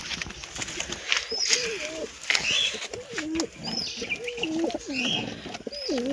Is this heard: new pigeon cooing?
yes